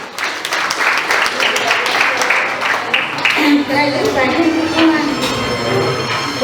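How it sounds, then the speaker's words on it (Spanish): Applause from a wedding crowd, a steady patter of many hands clapping for several seconds, with voices and crowd noise mixed in. "la señora Mariposa, para quien le vamos a dar muy fuertes aplausos"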